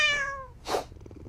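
A cat gives a single clear, high meow that falls in pitch, followed by a brief breathy huff, close and fairly loud with no speech.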